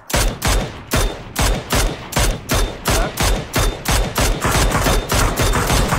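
Gunfire in a shooter video game: loud, close shots fire in an even, rapid cadence, roughly one every half second, each a sharp crack with a short tail, continuing for several seconds.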